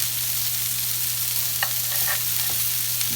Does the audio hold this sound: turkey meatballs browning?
yes